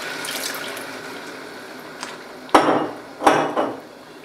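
Water runs from a tap into a sink while preparing honey and tahlawt sweets, a soft steady flow followed by two louder splashing pours near the end.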